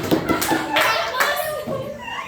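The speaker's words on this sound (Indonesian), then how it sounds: "jika tepuk tangan 1 kali cukup 1 kali, 2 kali, 3 kali" Hands clap in a classroom in short, quick bursts of separate claps, fairly close, with children's voices mixed in among the claps.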